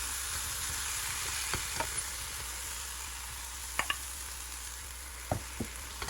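Egg mixture sizzling in butter in a frying pan, a steady close hiss with a few soft clicks of a utensil scattered through.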